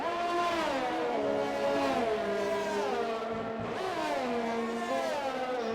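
Race cars in the RSF1 racing game battle for position at the Vietnam circuit, engines screaming and rising and falling in pitch through gear changes, loud and continuous with several cars overlapping.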